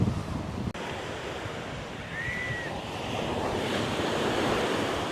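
Ocean waves washing onto a beach on San Andrés island, Colombia, a continuous broad surf roar mixed with gusty wind buffeting the microphone, steady and fairly loud for the whole stretch.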